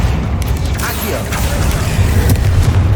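Accio summoning spell cast during spider combat in Hogwarts Legacy: a steady roar of booming, rumbling magic effects with sharp crackling bursts scattered through it, loud and close, with a voice heard briefly over the noise.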